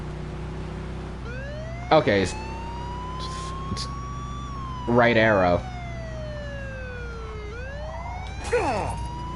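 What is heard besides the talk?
police car siren from a video game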